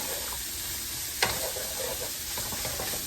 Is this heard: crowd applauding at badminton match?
no